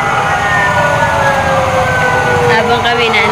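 A fire truck siren wails loudly and continuously during a fire prevention month motorcade, its pitch sweeping and gliding, close and dominant over the surrounding street noise.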